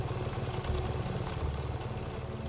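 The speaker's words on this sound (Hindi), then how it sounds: "बाइक स्टार्ट की और शहर के लिए निकल पड़ा।" A motorbike engine idles with a low, steady, throbbing rumble, fairly quiet and even throughout, heard alone without any talking.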